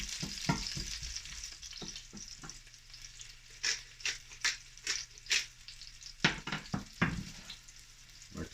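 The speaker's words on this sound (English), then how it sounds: "Got the onions in there. Gonna let them saute or brown for about a minute." Onions sauteing in a hot pan give a steady close sizzle, broken by repeated scraping and knocking of a utensil stirring them, with bursts of louder crackle and clatter throughout.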